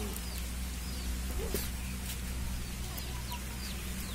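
Chickens in a village cluck faintly now and then against a steady background hum, small scattered calls at a distance.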